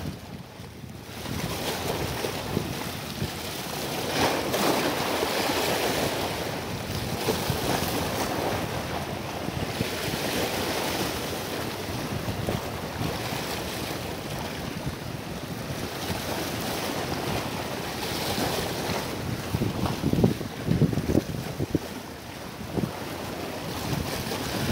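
Strong wind buffets a small fishing boat on open water during ultralight casting, steady rushing gusts and wave wash filling the whole stretch, loud and continuous with no voices.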